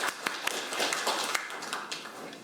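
An audience at a Korean policy forum on veterans' delayed PTSD applauds, with sparse, scattered individual claps landing at irregular intervals over a soft room background rather than a full, thick ovation.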